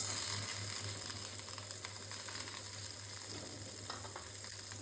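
Onions frying in hot oil in a pan, a steady, dense sizzle with crackling spits, close and continuous with a low hum beneath, no voices.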